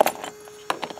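A set of keys jangling close up, a quick metallic rattle at the start followed by another burst of light clinks a moment later, with no talking.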